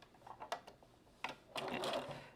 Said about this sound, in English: So I'm back stitching a little bit right there at my opening and just pulling it on up.